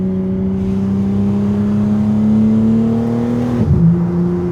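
BMW G80 M3 engine revving up with a smooth rising exhaust note, holding a strong tone before an abrupt pitch drop as the gear changes, loud and close with no voices.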